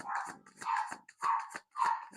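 A dog barks four times in a slow, even rhythm, each bark sharp and fairly close, with quiet gaps between.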